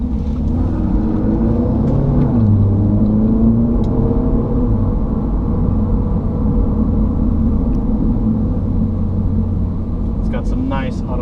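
A 2016 Audi TT on the road, its engine a steady low rumble with shifting tones as the automatic gearbox downshifts, heard from inside the cabin.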